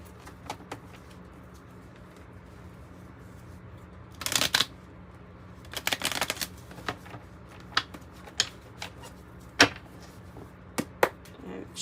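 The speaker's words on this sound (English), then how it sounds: "Shuffle it a little bit more." Oracle cards being shuffled in several short bursts, crisp riffling flutters and scattered taps close by, with quiet pauses between them.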